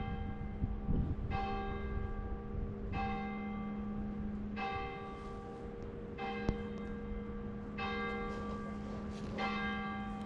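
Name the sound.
church bells ringing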